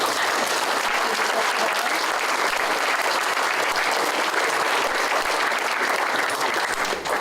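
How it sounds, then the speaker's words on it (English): An audience at a Quilts of Valor ceremony applauds veterans, with continuous dense clapping held at an even, fairly loud level from start to finish. "Can give a round of applause to all of our veterans."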